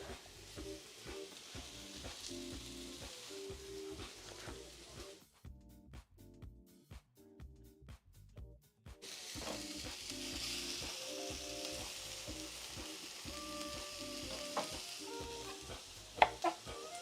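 Food sizzles and fries steadily in a pan while being stirred during soul food catering prep, with scraping and clinking throughout; the sound briefly cuts out midway, then returns louder and continuous.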